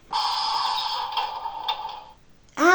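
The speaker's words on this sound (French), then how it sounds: "ça c'est l'ouverture des portes." Toy bus doors opening: a sustained electronic buzzing tone for about two seconds, then a short pause and a rising, wavering synthetic sound effect at the end, close by and with no talk.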